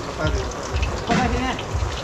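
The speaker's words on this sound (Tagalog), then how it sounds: "Nagdagdag tayo ng konting tubig." Water poured into a cooking pot of vegetables during large-scale catering cooking, a steady splashing gush under a voice talking throughout.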